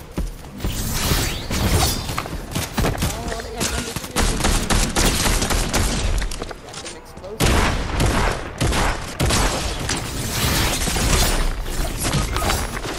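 Dense, continuous gunfire in a video game, loud rapid bursts and overlapping shots crowding one another almost without pause, with players talking over the action.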